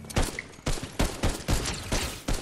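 Gunfire in the video game Fortnite: a rapid series of about seven loud, sharp shots in quick, slightly uneven rhythm, heard alone.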